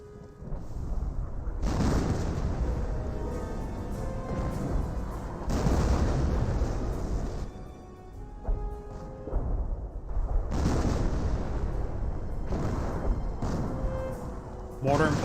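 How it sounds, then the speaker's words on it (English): Mortar emplacement firing in the Company of Heroes strategy game: repeated heavy booms in bursts amid continuous battle noise, with a commentator talking over the action. "Mortar emplacement engaging somewhere."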